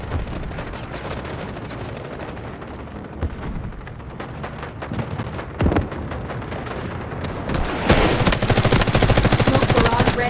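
Dense, loud gunfire from the Delta Force video game, sustained automatic bursts and heavy shots layered over a battle din, intensifying toward the end with rapid rattling volleys.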